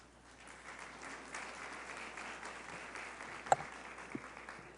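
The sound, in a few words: audience applause for a doctor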